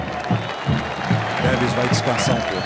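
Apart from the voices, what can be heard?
stadium crowd applauding Tevez as he is substituted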